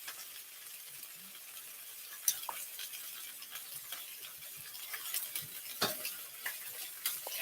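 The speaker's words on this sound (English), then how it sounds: "we're going to use the juice from the onion, garlic, tomatoes to scrape up all of that flavor from the bottom" Scraping browned bits from the bottom of a pan with juice from onion, garlic and tomatoes: a soft steady sizzle with occasional scraping clicks and taps of a utensil against the pan, fairly quiet and without speech.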